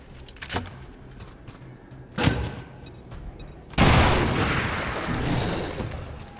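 Grenade explosion in XCOM 2, a loud blast that bursts in and then rumbles on and decays, preceded by a few sharper thuds and clicks of game action.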